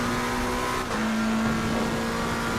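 A race car engine in Assetto Corsa Competizione, lapping the Nordschleife in a solo endurance race, holds a steady high drone, then briefly dips as it downshifts before resuming its sustained whine.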